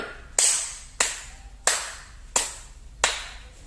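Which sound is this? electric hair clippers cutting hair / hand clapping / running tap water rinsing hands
hand clapping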